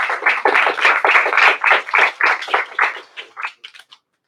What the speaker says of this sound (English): we would like to give a round of applause to Lee Kai